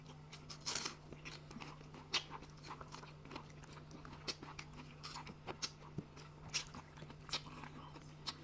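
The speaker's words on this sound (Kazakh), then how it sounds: "Пиязды қара. Тіріде жеймін." Crisp bites and wet chewing of raw onion during a beshbarmak mukbang meal, a steady run of close crunchy bites and mouth sounds with a low constant hum underneath and no talk.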